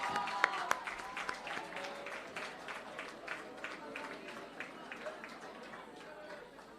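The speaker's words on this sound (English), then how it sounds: "I think they deserve a louder round of applause," Audience at an inter-school general knowledge quiz contest applauds the winners, producing a moderate, fairly distant round of clapping that gradually fades, with a voice speaking faintly underneath.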